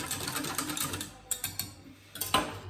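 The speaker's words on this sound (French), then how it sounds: "Je fouette un peu." Whisking chocolate cream in a bowl, a steady run of quick light scraping ticks with a few sharper clinks of the whisk against the side, close and alone.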